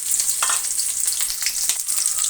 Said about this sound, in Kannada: ಫ್ರೈ ಆಗಲಿ ಚೆನ್ನಾಗಿ, ಈರುಳ್ಳಿ, ಕರಿಬೇವಿನ ಸೊಪ್ಪು, ಸಾಸಿವೆ ಎಲ್ಲ.